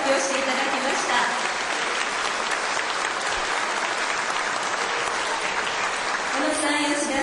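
Warm audience applause at a national traffic safety campaign ceremony, a dense, even clapping from a large hall crowd that holds steady for several seconds.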